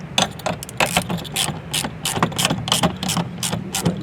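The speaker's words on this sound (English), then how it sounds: "We're using an 8 to put them back on. Just kind of tighten them up, or snug them up a little bit." An 8mm socket on a ratchet snugs bolts into metal J clips during a BMW X5 M-Sport installation, a quick series of close, crisp clicking bursts with short pauses between strokes.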